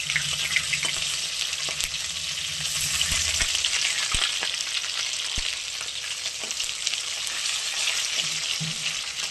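Khoira fish sizzles in hot oil in a pan, a steady bright frying hiss with occasional soft clinks and stirring knocks, close and continuous with no voices.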